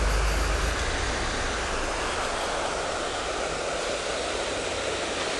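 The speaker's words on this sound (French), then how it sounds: "Je suis juste en face de la cascade" Steady roaring rush of a waterfall seen from a butte opposite it along a river, broad continuous noise with low wind rumble, no talk.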